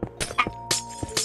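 Several sharp crashing, clinking impacts of glass breaking, spaced irregularly over a sustained musical tone, fairly close and moderately loud, with no talking.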